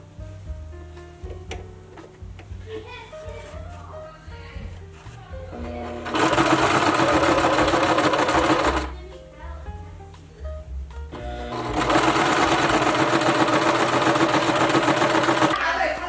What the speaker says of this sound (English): let's go head over to the sewing machine and sew the sides up